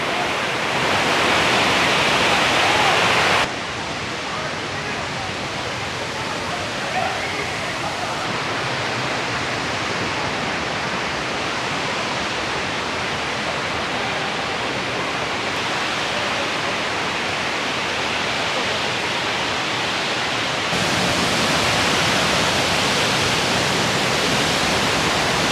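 Cane Creek Cascades waterfall rushing in a steady, broad roar of falling water throughout, louder at the start and end, with no other sounds standing out.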